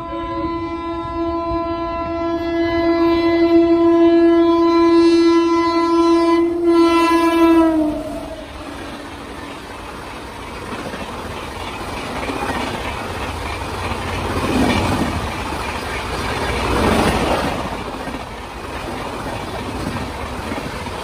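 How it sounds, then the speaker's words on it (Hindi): The Mahabodhi Express passes at speed at Khurja junction while overtaking the Gomti Express, a loud sustained horn blast opening into the roar and rattle of wheels running by close and continuous. "तो महाबोधि एक्सप्रेस आ रही है अब गोमती को ओवरटेक करने के लिए।"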